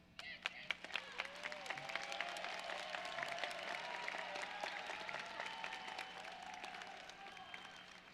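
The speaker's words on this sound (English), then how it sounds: "give them a round of applause" Applause at a 2023 graduation ceremony for the graduates' families and friends, a large crowd clapping steadily and fairly faintly for about eight seconds with some voices mixed in.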